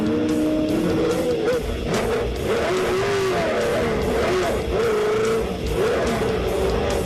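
Off-road Pro 4WD race trucks roar loudly and continuously at close range, engines revving and shifting pitch as they power around the dirt track, with no talk.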